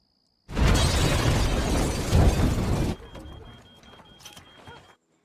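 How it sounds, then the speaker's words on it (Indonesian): Bomb blast in a film, a sudden loud, close roar of explosion that rumbles for a couple of seconds, then drops into crackling debris and scattered clatter before falling silent. "ia mendengar ledakan itu"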